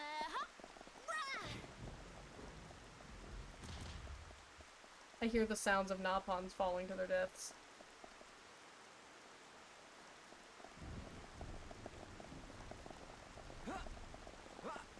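Steady rain from a thunderstorm in the Xenoblade video game, a continuous broadband patter running through the whole stretch under a person talking, with a brief louder burst of other game sound in the middle.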